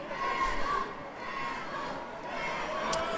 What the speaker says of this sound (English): Crowd getting involved here. We've got some noise going.